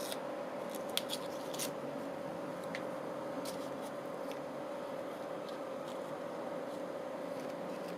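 Scissors trim the edge of a paper sheet during an art project, giving a few brief, sharp snips that sit faintly over a steady room hum.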